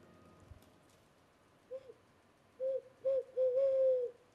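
Man imitating a pigeon's cooing with his mouth: a faint first coo followed by three close, louder hooting coos, near, over quiet background.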